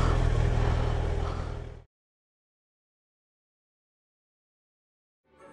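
A powerful car engine revs and accelerates loudly for under two seconds, then cuts abruptly to silence before a faint sound returns at the very end.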